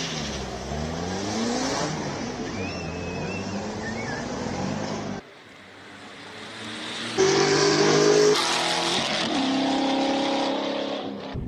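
A V8-powered BMW Z4, LS-engined and rear-wheel drive, races up a hill climb course, its loud engine revving hard through gear changes, fading briefly, then roaring back close by with rising pitch.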